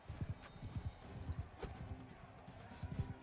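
Horse hooves in the video game South of the Wall, a run of quick, faint clip-clop beats in an irregular trotting rhythm over soft background noise.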